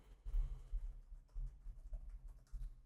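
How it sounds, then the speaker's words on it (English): Typing on a computer keyboard: soft, quick clusters of key taps in uneven bursts, close but faint, with no voices. "So we'll just type this keyword into here"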